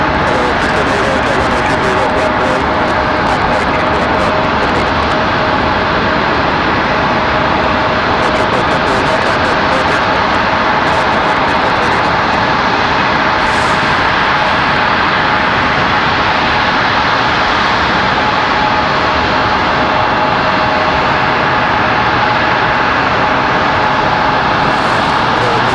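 Airbus A319 arriving from Washington Dulles, a steady jet engine rumble and hiss filling the background while someone talks over it.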